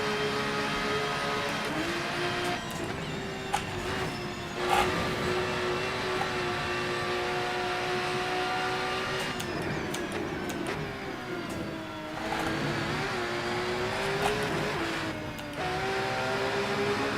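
A race car engine in the racing video game Rennsport drones steadily throughout, its pitch rising and falling with gear changes, with a synthetic, game-like sound and no talking.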